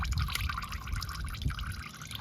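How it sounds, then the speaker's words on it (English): Engine oil from a 2021 Toyota Camry drains steadily into a pan, a continuous close trickle and splash with dripping texture, heard alone. "So I'm gonna let that drain for a few minutes"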